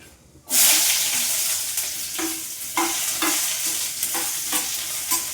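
Garlic and shallots hit hot oil with curry leaves in a pan and burst into a loud, sustained sizzle, then rhythmic stirring strokes rasp through the frying.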